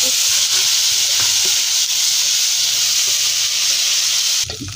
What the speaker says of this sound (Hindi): अब मैं इसमें 1 चम्मच लहसुन अदरक का पेस्ट, साथ में सब्ज मिर्चें ग्लैंड की हुई डाल दूँगी।